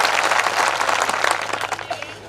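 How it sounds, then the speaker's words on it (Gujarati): Loud, dense applause from a crowd at a political rally rises around a youth leader's welcome, steady and close throughout with scattered cheers. "એમનું પણ એકવાર જોરદાર તાળીઓના ગણગણાટથી એમનું સ્વાગત કરી લઈએ."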